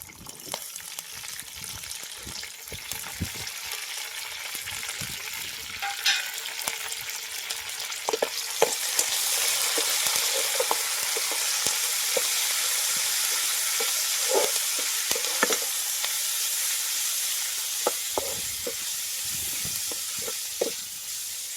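Curry leaves fry in a pan with a continuous soft sizzling hiss and scattered small crackles and pops, steady and close throughout.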